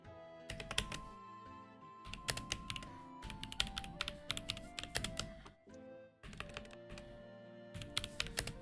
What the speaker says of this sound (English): This is going to be a little bit of typing from me, so hold on.